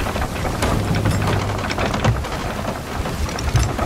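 Video-game storm at sea with a Kraken nearby: heavy steady rain pours across the whole span while low rumbles of thunder roll underneath, loud and close, with no talking.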